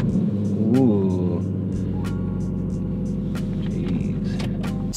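A Jeep Grand Cherokee SRT with a 6.4 Hemi fires up, the starter whine giving way to a deep, steady idle rumble close by, with a few faint clicks over the running engine.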